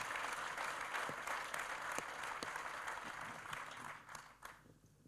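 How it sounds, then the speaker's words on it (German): An audience claps steadily and warmly at a gathering of football figures, a dense wash of applause that holds throughout and then thins out toward the end. "Einen großen Applaus auch an Bernd Patzke."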